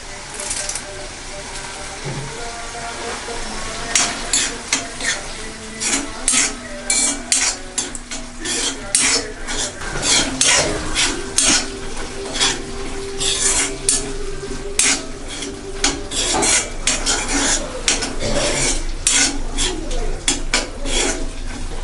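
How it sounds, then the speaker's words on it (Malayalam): A prawn roast cooks in a pan over a medium flame, with a spoon stirring and scraping against the metal in frequent, irregular strokes over a steady background sizzle. "നമുക്ക് മീഡിയം ഫ്ലെയിമിലാക്കി ഇടയ്ക്കൊന്ന് ഇളക്കി കൊടുത്ത് നമുക്കിത് വറ്റിച്ചെടുക്കാം"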